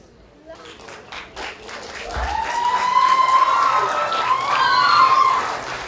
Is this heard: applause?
yes